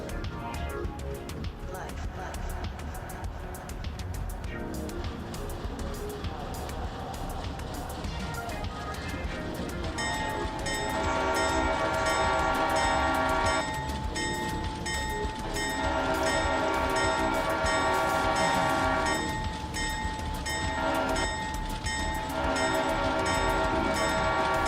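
Diesel locomotive 106 rolls by with a loud, steady rumble, its Leslie RS5T horn sounding in long sustained blasts that are broken by short gaps. Speech is also present.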